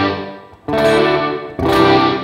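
Electric guitar through a Boss RV-6 reverb pedal set to a short decay time, two loud, bright strummed chords each ringing briefly with a boxy, tight reverb tail, no voices.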